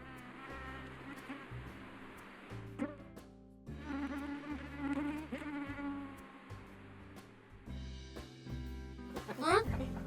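Mosquitoes buzz in a thin, high, wavering whine, fairly close and continuous, mixed with background music and occasional effects in a children's cartoon.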